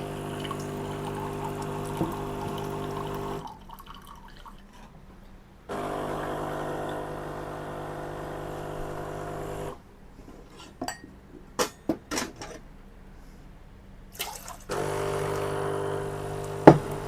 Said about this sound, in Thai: สลับกันมาเทใส่หม้อเพื่อที่จะเอาไปเททิ้งนะครับ